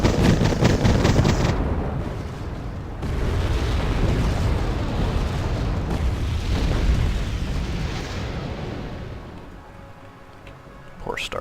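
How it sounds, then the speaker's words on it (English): Artillery bombardment pounding starships in a video game, a dense roar of layered explosions and bursts that stays loud for most of the stretch before easing off near the end, with a voice talking over it. "Poor starships. They don't do very well under artillery bombardment."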